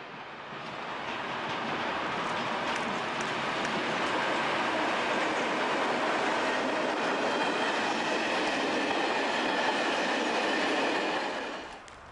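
A train hauled by a class 228 (V180) diesel locomotive passes through Ellrich, a former freight border station, with a loud sustained rumble and rail noise swelling in, holding steady for about ten seconds, then easing off.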